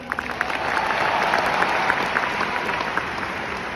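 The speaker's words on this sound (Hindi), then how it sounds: "एक बार जोरदार तालियां।" Loud applause from the audience at a company success day event in Delhi, many hands clapping in a dense, sustained wash that swells slightly and then holds steady.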